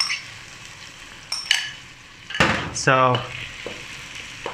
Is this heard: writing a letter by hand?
no